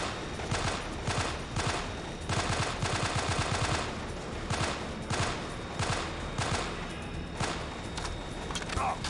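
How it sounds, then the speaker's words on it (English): Gunfire in Delta Force Black Hawk Down, a military shooter game: repeated bursts of rapid automatic shots in clusters across the whole stretch, loud and close, with brief gaps between volleys. "Oh, okay, that was a gun this whole time."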